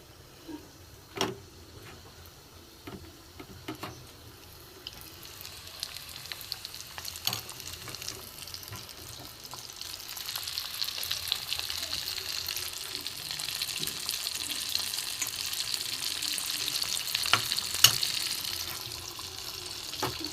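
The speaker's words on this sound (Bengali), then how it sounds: "এইভাবে আমি সব কটা করে ভেজে নেব" Coated chicken popcorn pieces deep-fry in hot oil, the sizzle starting faint with scattered clicks and taps, then swelling into a steadier, brighter bubbling crackle as more pieces go in, with no talking.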